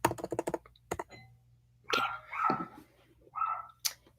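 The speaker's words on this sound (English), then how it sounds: "someone's at the door. Don't know who, but my dog's going nuts." A dog barks at someone at the door in a few short, separate bursts after a quick patter of keyboard typing, heard indoors at moderate distance with no talk.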